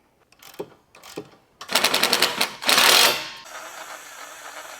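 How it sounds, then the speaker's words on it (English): A ratchet tightens a 17mm bolt on a receiver-mounted front bumper, a few isolated clicks followed by rapid loud ratcheting bursts, then a fading hiss, with no speech. "Tighten that up, 17mm, and tighten that bolt up."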